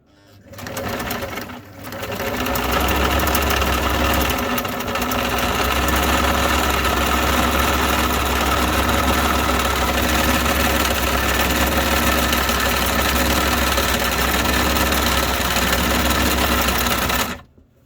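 A Singer 478 sewing machine running after repair, starting briefly, pausing, then humming and clattering loudly and steadily at close range for about fifteen seconds before stopping.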